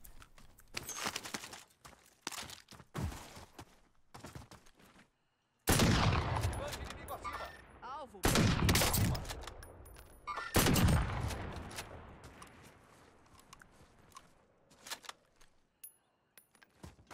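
A sentry gun fires in a video game, with short bursts of automatic gunfire separated by gaps, several loud close volleys followed by fading echoes and scattered clicks.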